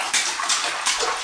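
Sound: child splashing water in a bathtub

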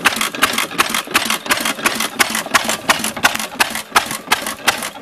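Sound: 1914 Friend stationary engine running

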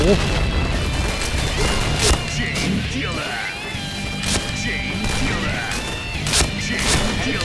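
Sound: grenade explosions in Point Blank video game

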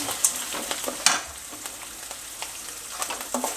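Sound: ginger and green chillies sautéing in oil

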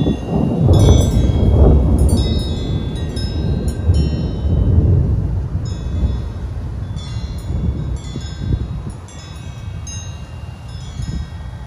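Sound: thunder

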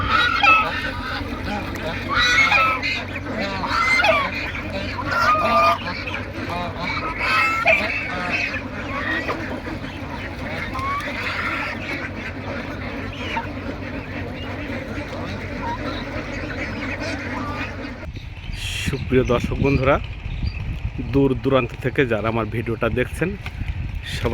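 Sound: geese and goslings honking on a duck farm

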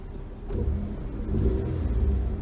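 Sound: 2003 Dodge Stratus R/T engine running

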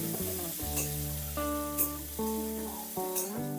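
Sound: garlic, tomato and shrimp frying in hot mustard oil

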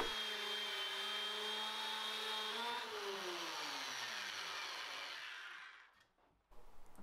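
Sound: dowelling machine drilling holes in wood panel base

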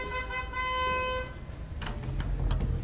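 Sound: car horns honking on a narrow Gangnam street

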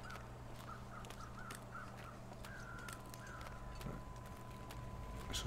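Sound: crows cawing in the video game The Long Dark

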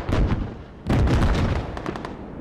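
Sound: mortar fire in the video game Squad

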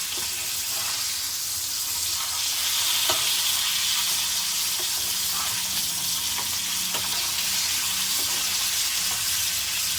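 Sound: pomfret fish frying in oil

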